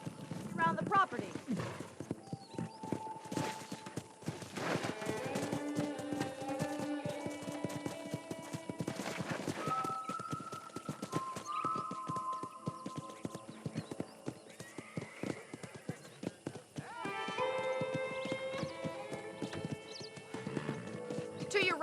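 Hooves clip-clop steadily as a horse is led around a ranch property in Red Dead Redemption, with a neigh or whinny partway through, all under ongoing spoken dialogue and a light music bed.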